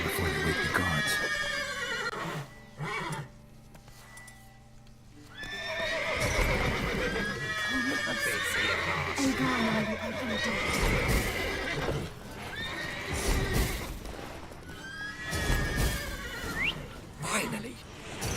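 Horses in The Witcher 3 video game whinny and neigh repeatedly, with clip-clop hoof sounds and shuffling in between, several distinct calls spread through the scene at moderate distance.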